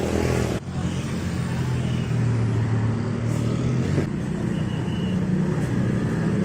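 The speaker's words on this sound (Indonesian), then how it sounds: "Wah, angkot coklatnya udah maju aja tuh." Brown angkot minibus pulling away on a road in Indonesia between Bandung and Sumedang, an engine droning and rising near by amid passing traffic noise.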